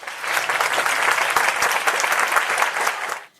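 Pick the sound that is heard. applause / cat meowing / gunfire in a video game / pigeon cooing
applause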